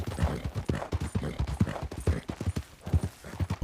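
Rapid, steady clip-clop of a horse's hooves in a video game, a close and busy galloping rhythm with faint background noise and no clear talk.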